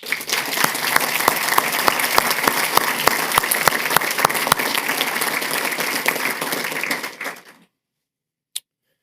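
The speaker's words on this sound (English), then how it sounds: "let's take a moment and show them our appreciation with a round of applause" Graduation audience at a fire-rescue academy ceremony gives the instructors a loud, sustained round of applause that cuts off abruptly near the end, followed by silence and one sharp knock.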